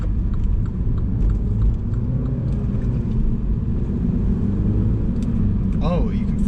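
Mini fitted with a JCW Pro tuning exhaust, its engine rumbling loud and steady with low throb from a close, continuous drive, with a brief voice near the end.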